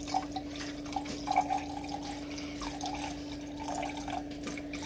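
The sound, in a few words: water being poured while making lassi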